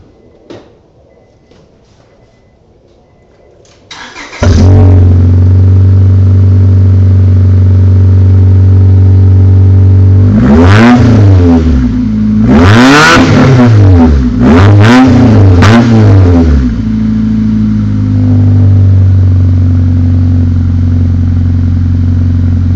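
A Honda car engine fires up after a quiet moment, then idles loudly through its exhaust with several sharp revs in the middle before settling back to a steady rumble.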